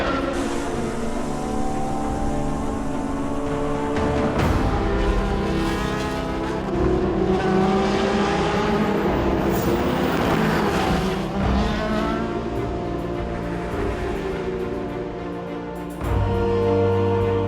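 Le Mans endurance race cars roar past one after another, engines rising and falling in pitch as they approach and recede, loud and continuous with no talk.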